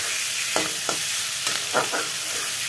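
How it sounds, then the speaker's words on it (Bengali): Tomatoes frying in a pan over a raised gas flame, giving a steady soft sizzle with a few brief stirring scrapes and clinks, no talking. "টমেটোগুলো একটু ভাজা ভাজা হবে"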